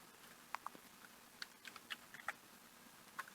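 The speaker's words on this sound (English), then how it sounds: "I'm just like typing random numbers" Scattered, uneven keystrokes tap on a computer keyboard as random numbers are entered, a dozen or so faint clicks spread irregularly across a quiet room with no talking.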